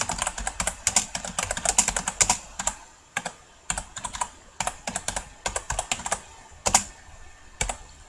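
Someone types a short tweet on a computer keyboard: rapid, crisp key clicks in uneven bursts with brief pauses, close and clear, no voices.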